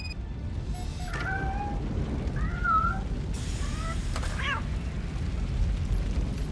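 A cat in RoboCop: Rogue City lets out several short, wavering meows spread across a few seconds, heard faintly over a constant low rumble of fire and background noise.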